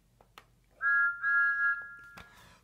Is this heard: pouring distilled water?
no